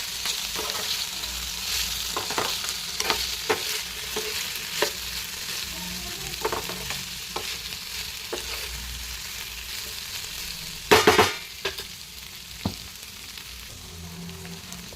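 Ivy gourd (dhondakaya) fry sizzling steadily in a pan while being stirred, with scattered scraping clicks of the spatula and one louder clatter near the end.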